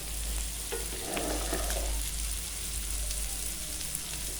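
Prawns fry on a tawa with a steady, close crackling sizzle, and some light stirring scrapes early on.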